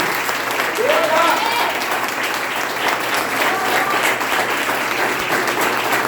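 Steady applause from a church congregation during a worship service, continuous clapping that fills the whole stretch without pause.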